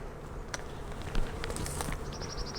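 Honeybees buzz around a swarm box outdoors, a soft steady hum of scattered insects nearby with a few brief louder passes close by.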